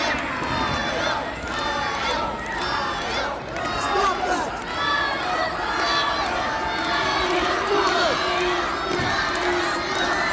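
A live professional wrestling crowd roars and cheers continuously in an arena, with layered shouts and excited voices rising and falling, loud and close throughout.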